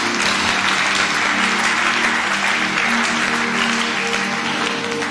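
A church congregation claps and cheers in praise, a dense, continuous burst of applause from a large crowd filling the room at close range.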